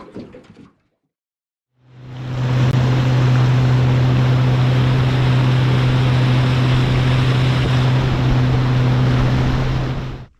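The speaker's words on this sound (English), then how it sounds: "Have a look at that salt water just running out like a little saltwater waterfall into this crystal clear creek." Salt water pours out like a small waterfall into a clear creek at Port Smith in the Kimberley, a steady, loud, close rushing roar that begins after a brief quiet and continues without a break.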